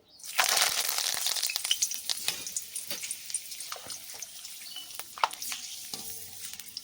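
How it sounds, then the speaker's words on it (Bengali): Curry leaves fry in hot oil after roasted peanuts come off the heat for a chickpea dalmoth snack, giving a steady close sizzle and crackle with scattered pops and spoon scrapes throughout. "এবার কিছুটা কারি পাতা ভেজে নিচ্ছি"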